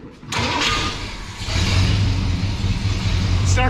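A 1965 Ford Ranchero's engine cranks and catches after a short pause, then settles into a loud, close rumble that swells as it revs, with a brief rattle near the end.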